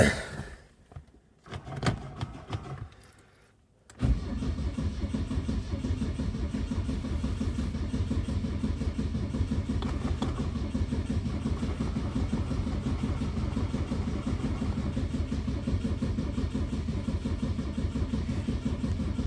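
A 1972 Saab 96 V4 engine cranks briefly in a few uneven bursts, then fires and settles into a steady, loud idle that runs continuously close by, with no talking over it.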